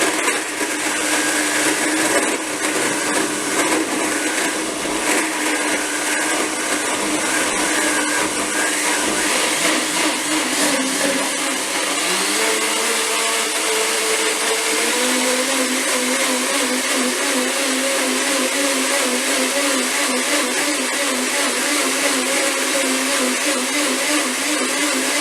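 A blender whirs loudly and steadily as it blends a green smoothie, its pitch rising and settling partway through the cycle with no talking.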